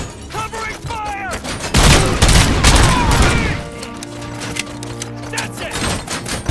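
Gunfire rattles in RoboCop: Rogue City, bursts of rapid shots mixed with mechanical clanks and a heavy boom, loud and close, with shouted voices and whistling effects around them.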